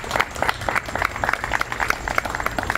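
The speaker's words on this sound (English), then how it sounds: "Let's give them a big round of applause." Scattered, uneven clapping from a modest crowd at a wedding reception at Westbury Manor, Long Island, with distinct individual claps standing out close by.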